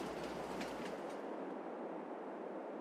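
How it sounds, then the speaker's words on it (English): A long freight train rolls past in Farming Simulator 22, a steady broadband rumble with faint clickety-clack that starts loud and thins out as the cars go by, with no talk. "it is nice to see really, really long trains in Farm Sim from time to time"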